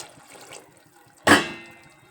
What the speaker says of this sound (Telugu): ఒక గ్లాస్ వాటర్ వేస్తాము